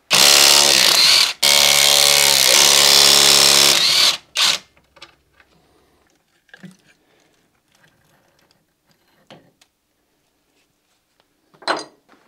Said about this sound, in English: So now I want to remove those four bolts right there.